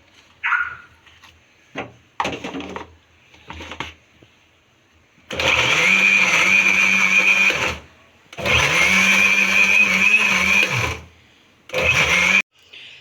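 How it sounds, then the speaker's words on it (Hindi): A blender whirs loudly in three bursts of a few seconds each, grinding green chillies and ginger with a little water, separated by short pauses, after some clinking and handling noises. "अब हम ये सब्ज मिर्चें और अदरक का पेस्ट बनाएंगे, थोड़ा सा पानी डाल के।"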